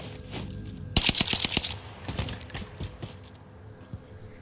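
Automatic-weapon gunfire in a shooting video game, a burst of rapid sharp shots followed by a second, looser volley with a few scattered single shots trailing off, fairly loud and close with no talk over it.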